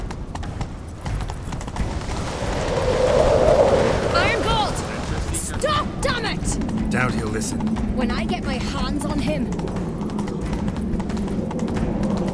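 Horses clip-clop along in The Witcher 3 game world, hooves thudding steadily under shouted dialogue between characters throughout the chase.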